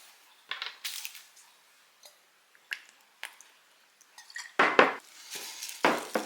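Ranch dressing and Worcestershire sauce are stirred together in a bowl, producing scattered wet squishes and light clinks of a utensil against the dish. These are quiet at first, then louder bursts of mixing come near the end.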